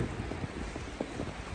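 Wind blowing outdoors through an Arizona neighborhood on a cold, snowy day, a steady broadband rush with gusty buffeting against the microphone, no talk.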